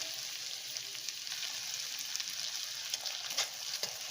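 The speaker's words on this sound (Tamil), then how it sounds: "இதையும் நல்லா இப்போது வதக்கி விட போகிறோம்" Vegetables for poha are sautéed in a pan, giving a soft, continuous close sizzle with occasional light clicks of stirring, with no voices.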